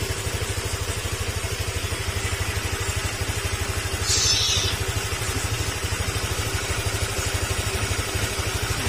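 A Honda Click 125 scooter with coolant overflow and overheating trouble idles while warming up, its engine putting out a steady, even, close putter with a light mechanical clatter, unbroken throughout.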